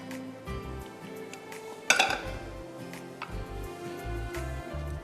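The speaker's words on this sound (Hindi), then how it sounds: "अच्छी तरह स्क्रैप करिएगा इसको स्पैचुला से या वुडन चमचे से" A spatula or wooden spoon scrapes a pan of gajar ki kheer made with almonds and pistachios, producing a series of soft, close scrapes and knocks with one sharper metallic clink near the middle.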